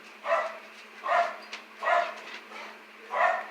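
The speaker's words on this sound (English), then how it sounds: "and then Katie's barking" Four evenly spaced barks from a single dog, fairly faint and a little distant, with quiet pauses between them.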